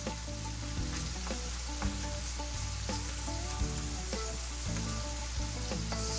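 Onions fry in a pan with a continuous even sizzle and crackle while music plays steadily over it.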